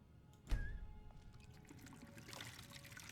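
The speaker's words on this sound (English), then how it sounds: "Refill water skins." Water pours and trickles as water skins are refilled in Skyrim Special Edition, a faint, quiet stream starting with a soft splash and running steadily to the end.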